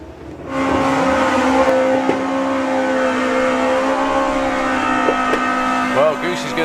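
Audi A4 estate race car launching at a Santa Pod drag strip eliminations event, a loud sustained engine drone with steady harmonic tone and a crowd-like background wash, the pitch shifting near the end as it pulls away.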